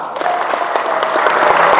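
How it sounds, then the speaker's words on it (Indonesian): Loud, continuous applause from a church seminar audience honoring the council section, many hands clapping in a thick, even roar that swells slightly toward the end. "Tepuk tangan untuk seksi dewan."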